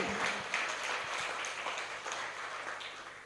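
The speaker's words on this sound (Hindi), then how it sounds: "एक बार दोनों महिलाओं के लिए तालियां बजाइए" Audience applause for two women at a religious discourse, a faint, dense patter of many hands clapping continuously with a few voices mixed in.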